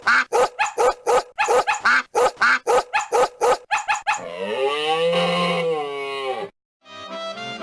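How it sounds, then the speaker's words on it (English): A caribou call: a rapid series of sharp, rhythmic barks, then a long drawn-out low moaning call, followed by a brief buzzing tone. "It was Caribou!"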